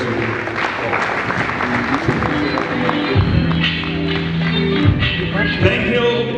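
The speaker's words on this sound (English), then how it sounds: "Please, a very big hand of applause for our reviewer" An audience at a book launch applauds in a dense, sustained patter of clapping, with crowd noise and some voices underneath.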